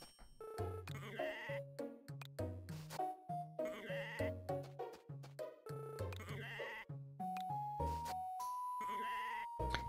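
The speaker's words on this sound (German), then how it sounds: "Juli, gerade müssten jetzt die Schafe wieder soweit sein?" Sheep bleat repeatedly in a quick, even rhythm in the video game Harvest Moon, each call a short wavering tone, clear and close with no talking.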